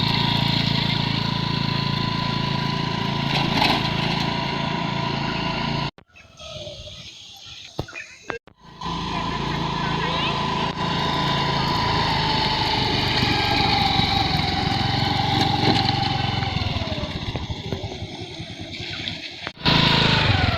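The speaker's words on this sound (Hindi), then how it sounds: "सामने में दीदी चला रही है स्कूटी।" A scooter engine drones steadily as the rider moves along, loud and close, with its pitch shifting slightly, cutting out briefly twice and then returning.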